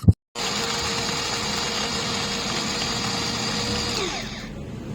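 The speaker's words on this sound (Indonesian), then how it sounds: "aku mau memblender 5 siung bawang putih ya teman-teman, kemudian kita haluskan" A blender grinds five garlic cloves with a loud, even whir that starts after a brief knock and runs steadily for about four seconds, then winds down.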